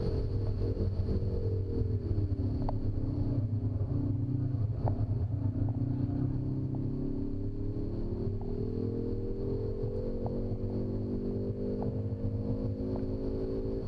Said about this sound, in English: heading back for turn 14 here, you'll hear the downshift again